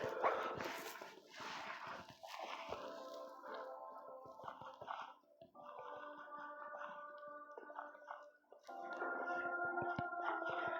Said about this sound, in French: ça doit être encore un chien